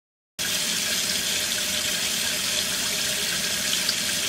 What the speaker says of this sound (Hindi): दोनों हाथों को साफ पानी से धोना चाहिए।